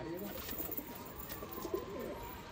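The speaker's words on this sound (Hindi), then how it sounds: "मान भाई लग चुके हैं कबूतर उड़ाने के चक्कर में" Soft pigeon coos repeat in the background, with a low murmur of nearby voices.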